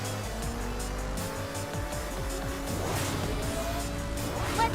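Race car engine droning steadily in the Sonic & All-Stars Racing Transformed video game, with rising and falling engine pitch and tire sounds under continuous game music, loud and close throughout.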